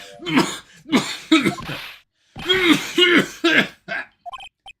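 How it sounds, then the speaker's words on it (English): A character in Phoenix Wright 3 coughs in a series of harsh, throaty bursts, pausing briefly midway before another run of coughs and a faint wheeze at the end. "Just try not to give me that cough of yours, okay?"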